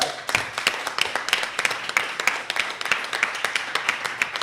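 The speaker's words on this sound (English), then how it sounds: "Let's just take a moment to give Leslie and Bob a round of applause." An audience at a panel event on peace and Pan-African coalitions applauds Leslie and Bob, a crisp, lively patter of many hands clapping steadily throughout, fairly close and without talk.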